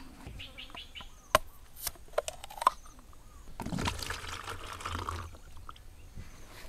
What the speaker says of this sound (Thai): ขั้นตอนแรกเราก็ทำการเฉาะมะพร้าวเพื่อที่จะเอาน้ำ